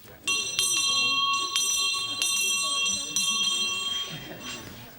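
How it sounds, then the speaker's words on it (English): A prison bell rings continuously and loudly with a bright metallic tone, sounding for several seconds before cutting off and fading, with faint voices underneath. "No, I hate that bell."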